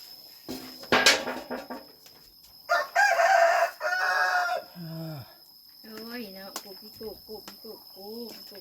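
Chickens cluck and a rooster crows nearby, with bursts of loud calls and a drawn-out crow, while insects chirp steadily in the background and people talk briefly.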